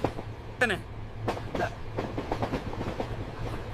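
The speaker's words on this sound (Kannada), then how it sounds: "ನೋಡಿ ಆ ಕಡೆ ನಮ್ಮ ಡೀಸೆಲ್ ಟ್ರೈನ್ ಹೋಯ್ತು" A diesel train rolls past, a low steady rumble with rhythmic clicks and clacks of wheels over rail joints, a couple of sharp squeals near the start, moderately close with faint background noise.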